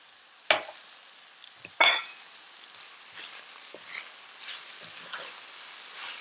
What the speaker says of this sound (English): Stir to blend all those delicious flavors and ingredients